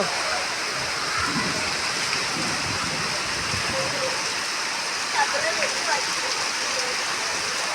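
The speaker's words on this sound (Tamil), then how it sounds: "மழையை பாருங்கள் செம்மையாக இருக்குது பாரு." Heavy rain pouring down steadily, a dense loud hiss of drops hitting surfaces, with a few faint voices now and then underneath.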